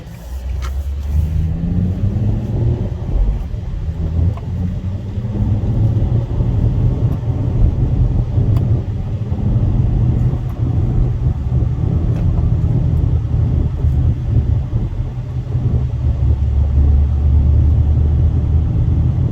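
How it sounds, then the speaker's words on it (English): A 2004 Infiniti G35 with a V6 and six-speed manual cruising in evening rush-hour traffic, its engine a steady loud low rumble from inside the cabin that swells slightly in the last few seconds, with no talking. "I can just punch it at any moment and I have so much throttle, because we have a big V6"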